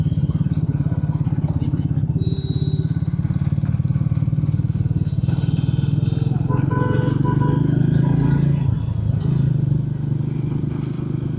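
A motorcycle is ridden through city streets, its engine note a steady loud close drone with faint traffic sounds around it and a slight swell near the end.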